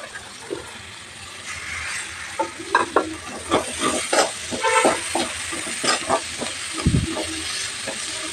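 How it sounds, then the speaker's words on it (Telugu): Fenugreek leaves frying in a pan with sweet potato, a steady sizzle broken by repeated scraping stir strokes, closer and louder in the middle, with no talking. "ఇప్పుడు మెంతికూర వేస్తున్నానండి."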